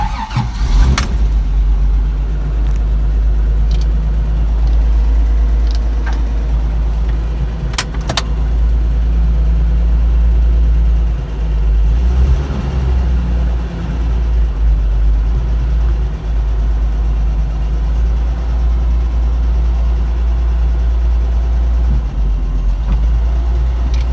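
A Toyota 45 Series, just fitted with a new clutch slave cylinder, drives on a test run with a strong, close engine rumble that rises and falls as it revs and shifts.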